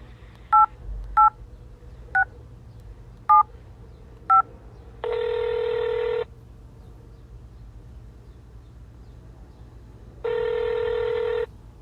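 Telephone keypad DTMF tones entering an extension on an automated phone line: five short, separate beeps, followed by two longer sustained tones with a quiet gap between them, clear against a faint hum.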